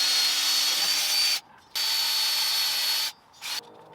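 A loud, steady wire-brush scrubbing on a Toyota 4Runner brake rotor, running in two long stretches broken by brief pauses and a short final burst.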